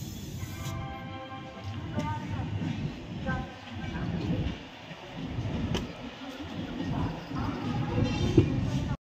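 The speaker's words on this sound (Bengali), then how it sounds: "অবশেষে দেখো আমাদের ট্রেন ঢুকছে প্রয়াগরাজ জংশনে।" A passenger train rolls slowly into Prayagraj Junction station with a low rumble and faint wheel clatter. People talk nearby over the steady noise.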